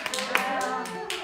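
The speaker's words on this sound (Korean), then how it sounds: "박수" Children and teachers clap at a children's Sunday worship service at a church, a handful of scattered, light claps mixed with voices talking over them.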